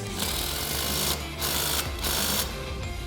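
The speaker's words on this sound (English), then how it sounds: "We're gonna use a 17mm for the upper bolts here." Power wrench with a 17mm socket spinning upper bolts, a buzzing mechanical whir in three or four short bursts with brief pauses between, close by and steady, no voices.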